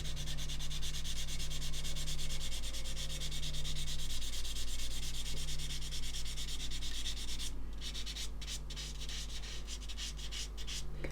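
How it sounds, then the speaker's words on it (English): Sandpaper rubs over the seams of a plastic model kit in close, steady strokes, quiet and continuous, with a brief run of quicker scrubbing near the end. "Obviously I'm sanding a much larger area now"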